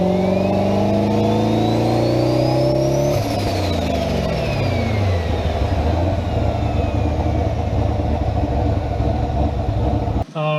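A twenty-year-old car making over 1000 rear-wheel horsepower revs hard on a dyno, its engine pitch climbing steadily and then dropping off, then droning loudly until a sudden cut near the end.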